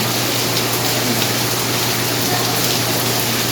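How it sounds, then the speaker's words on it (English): Rain pours down steadily at a resort swimming pool in Batangas as a dense, even hiss that stays loud and unbroken throughout. "It's raining."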